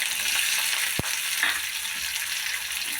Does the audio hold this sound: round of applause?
no